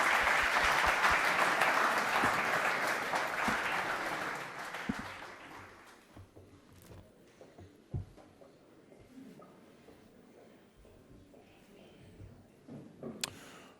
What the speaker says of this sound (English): How about another big round of applause for Kim Conti and Orbit Crates?